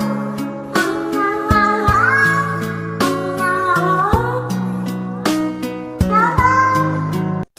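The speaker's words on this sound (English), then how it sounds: "That's a really cute cat." A cat meows repeatedly in clear, close, drawn-out calls, about five separate meows spread evenly across the clip, loud and alone with no talking over them.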